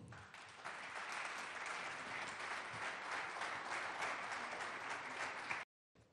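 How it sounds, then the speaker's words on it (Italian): Sustained applause from a conference audience at a panel session on co-governance and citizenship, a dense steady wash of clapping for several seconds that cuts off abruptly near the end. "un applauso per loro"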